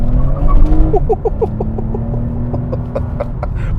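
A 2020 Toyota Camry TRD, front-wheel drive with over 300 horsepower, accelerates at full throttle, its engine note rising and holding steady with a sustained tone, close and loud inside the car.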